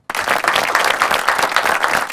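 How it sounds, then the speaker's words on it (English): An audience bursts into applause for a guest, dense steady clapping starting abruptly and continuing at full strength, close and loud. "Let's clap for him."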